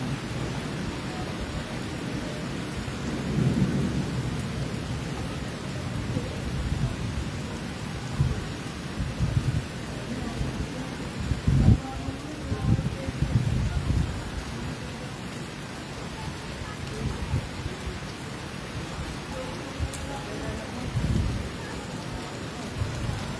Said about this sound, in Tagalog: Palakas na palakas yung ulan.